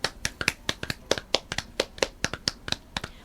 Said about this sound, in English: Should we clap now, or after you've said the other one?